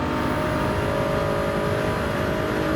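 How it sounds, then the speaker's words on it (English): A race car in Gran Turismo 7 runs at full throttle, its engine a steady, loud, high-revving drone that holds an even pitch and volume throughout. "So full throttle through here."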